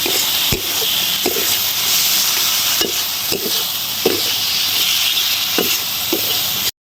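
Chopped tomatoes fry in a pan for a fish omelette curry, giving a loud, steady close sizzle with periodic scraping clinks of a spatula stirring through it.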